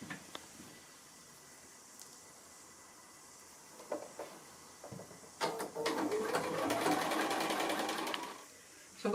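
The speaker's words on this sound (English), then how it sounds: "So I'm going to go and sew those together, making sure those seams nestle nicely." A sewing machine stitches rows of a house sampler quilt block together, starting after a few quiet seconds of faint handling, then running in a fairly close, steady burst for about three seconds before stopping.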